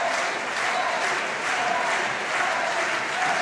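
A crowd at a para table tennis match gives sustained, dense applause, loud and steady throughout, with no voices standing out.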